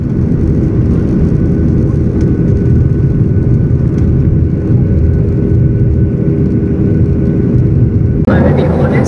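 Inside an airliner cabin in flight from Turkey to Oran, a loud, constant low roar and whir of engines and airflow fills the space, steady throughout with a brief rustle near the end.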